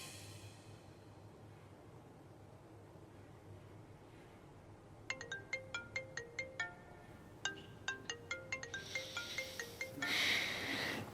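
A phone ringtone plays repeated bright chiming note patterns in two bursts, with a short gap between them, over a quiet room hum. It rings alone with no talking.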